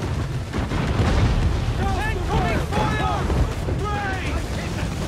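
Ship cannon broadsides in a naval battle in Assassin's Creed 4: Black Flag, heavy booms over constant wind and sea rumble, with shouted crew voices and calls over the din.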